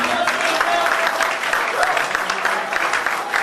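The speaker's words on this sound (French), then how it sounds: "Non, acclamez comme il se doit" A crowd cheers and applauds newly recognised presidents, the doctors, as they approach at a gathering of the Belgian pastoral body. The clapping and cheering are dense and steady, a continuous wash of near applause with no pause across the whole stretch.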